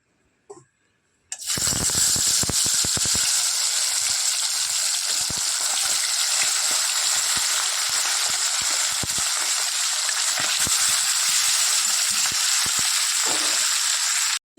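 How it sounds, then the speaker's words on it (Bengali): Fish frying in hot oil, a loud steady sizzle that starts abruptly after a short quiet moment and carries on without break until it cuts off at the end. "তেল গরম হয়ে গেছে দিয়ে দিই গরম হয়ে গেছে মাছগুলো দিয়ে দিই"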